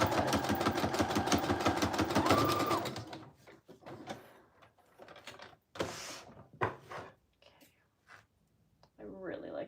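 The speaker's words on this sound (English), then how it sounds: "I see one spot that didn't get quite sewn down, so I'll just quickly do that." Home sewing machine running in short bursts to stitch down a patchwork junk journal page, a dense mechanical whir for the first few seconds, then quieter intermittent clatter and handling with a brief final burst; no one speaks.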